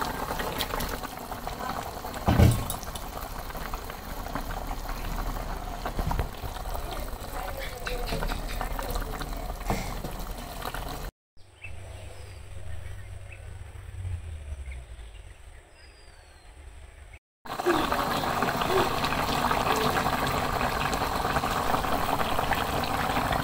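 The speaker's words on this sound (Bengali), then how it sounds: "তো ঝোল দেওয়ার পরে জাল দিয়ে নিচ্ছি" Village-style fish curry broth boiling in a pot, a continuous bubbling simmer broken by a short quieter gap before resuming, with speech over it.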